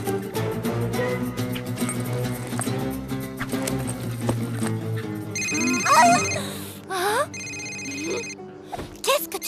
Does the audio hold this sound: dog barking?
no